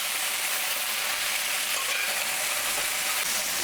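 Chopped vegetables for chicken chow mein are stir-fried in a hot pan, giving a continuous bright sizzling hiss with faint scraping stirs, close and steady.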